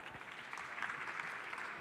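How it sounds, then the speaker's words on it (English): Audience applause fills a hall at ETHGlobal San Francisco 2024, a steady, dense wash of clapping from a large crowd that holds at even loudness throughout. "Please give him a big round of applause."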